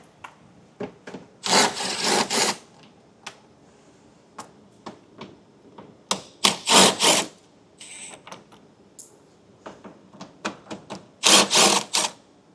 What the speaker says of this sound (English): We have 4 8mm bolts holding it up. We'll remove those.